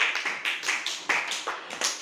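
Children in a classroom clap their hands, about ten sharp, evenly spaced claps over two seconds, close and fairly loud, with no talking over them.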